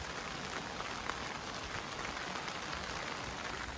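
Rain falls steadily while walking through a small town in Belgium's Luxembourg province, a dense, even patter on surfaces that stays constant throughout, with no talking.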